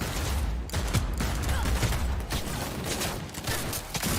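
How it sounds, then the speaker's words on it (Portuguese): Gunfire in a Cyberpunk 2077 shooting scene, a dense, continuous barrage of shots with mechanical clatter, loud and sustained throughout. "Pulou direto aí para uma cena de tiro."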